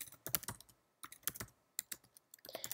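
Keys clatter on a computer keyboard as a web search is typed, coming in quick bursts of taps separated by short pauses, close and fairly quiet with no voices.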